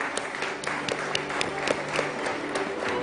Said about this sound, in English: I request the audience to give them a huge round of applause